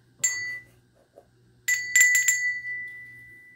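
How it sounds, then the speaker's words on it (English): A small purple bell rings out in a few bright metallic dings, one short strike followed by a quick cluster of rings that decay with a sustained shimmer, close and clear in a quiet room. "that's a bell."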